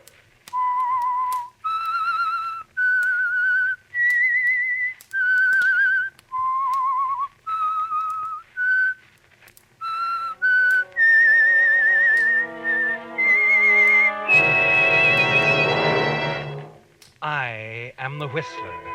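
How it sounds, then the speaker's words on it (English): A human whistler performs the theme tune of The Whistler radio show, a clear, close melody of separate sustained notes rising and falling, followed by an orchestral musical sting. "That whistle is your signal for the Signal Oil Program"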